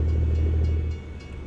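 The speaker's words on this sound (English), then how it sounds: "There's that train again." A train rumbles through Flagstaff in American Truck Simulator, a steady low, heavy drone close by that thins out and fades toward the end.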